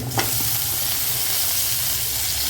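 Bitter gourd, potato and tomato sautéing in a pan for sambar rice, a steady close sizzle with light stirring scrapes throughout.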